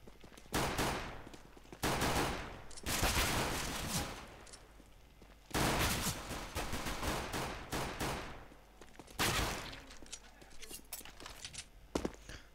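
Handgun fire in a 1v1 arena video game, bursts of rapid shots in separate clusters with quieter gaps between them and a few sharp pops near the end.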